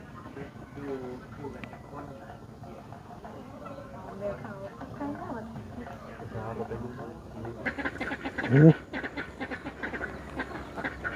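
Ducks at a rural home in Thailand give a brief burst of quacking partway through, heard under steady conversation between several people.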